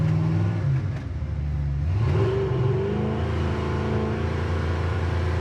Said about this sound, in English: Engine runs really nice and smooth.